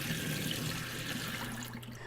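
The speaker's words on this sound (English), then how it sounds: "I'm going to go ahead and pour this water out and start from scratch" Water poured from a plant container into a sink splashes and runs steadily and fairly close for about two seconds, with no one talking.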